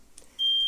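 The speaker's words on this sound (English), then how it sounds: "Smoke alarm." A single shrill, sustained electronic beep from a kitchen smoke alarm during cooking cuts in after a moment of near silence and holds steady.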